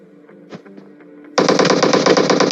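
Automatic gunfire erupts in a first-person shooter video game, a loud sustained rapid burst that cuts in abruptly after quieter game effects.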